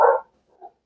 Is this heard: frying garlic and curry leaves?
no